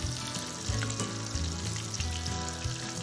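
Shrimp frying in hot grease at about 360 degrees for a South Carolina po boy, a steady close crackling sizzle with bubbling oil throughout and no talking.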